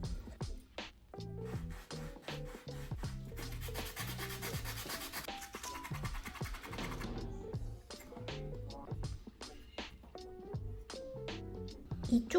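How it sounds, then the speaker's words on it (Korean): Sandpaper rubs back and forth on a small wooden part of a miniature retro stove, smoothing the inside and outside edges of a stiff tiny door. The strokes come close and quiet in repeated bursts with short pauses between them. "안쪽이랑 바깥쪽 둘 다 사포질을 해줄게요"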